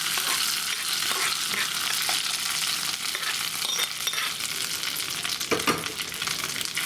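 Spices crackle and sizzle hard as a tempering goes into hot ghee for moong dal khichdi, a dense, continuous frying hiss with scattered pops and stirring scrapes, close and fairly loud, with no talking.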